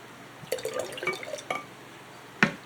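Water overflows from a container while a garden is being watered, giving close drips and small splashes in a short irregular run, with a sharper splash near the end.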